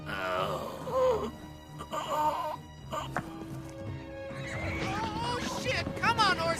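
A horse whinnies and neighs loudly in a chaotic 1998 comedy-movie scene, with several drawn-out calls breaking through frantic shouting and other voices, plus scraping and thumping commotion around it.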